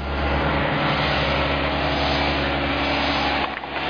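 Aircraft engine running with a fuel efficiency system switched on, a loud, steady, continuous drone with a constant pitch that holds for the whole stretch and dips briefly near the end.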